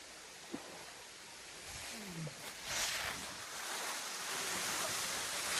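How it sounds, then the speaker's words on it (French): A waterfall on the road to Sidemen, a steady broad rushing roar of falling water that stays constant and fairly close throughout, with no voices. "il y a une belle cascade"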